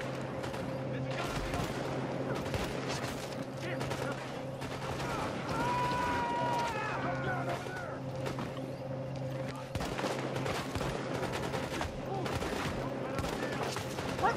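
Sustained bursts of game gunfire from Tom Clancy's The Division, with rapid automatic fire and scattered shots running throughout under a steady music bed and occasional voices.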